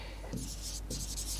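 A marker or chalk writing a sentence on a board, two short bursts of scratchy stroking, close and fairly quiet, with no talk over it.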